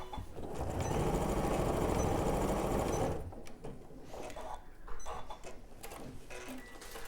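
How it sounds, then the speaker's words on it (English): A sewing machine runs steadily for about three seconds, top stitching fabric within the seam allowance, its rapid mechanical whir loud and close before stopping, followed by quieter room sounds and faint handling noise. "You're just going to top stitch a few times over that."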